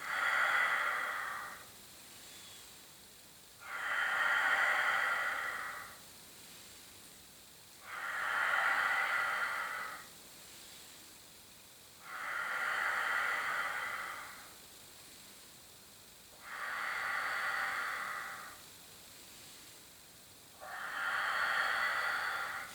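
Slow, steady breathing during a Pilates exercise, six long airy breaths spaced evenly a few seconds apart, each swelling and fading, fairly close and soft with quiet gaps between.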